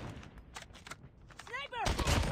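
Sniper fire in a video game: a few sharp reports land amid a busy mix of battle noise, and game voices shout over it while a whistling sweep briefly cuts through near the end.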